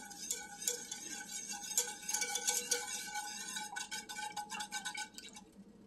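A spoon stirs a bread pudding mixture after sugar goes in, making quick, irregular clinks and scrapes against a bowl that come close and clear for several seconds without any talking.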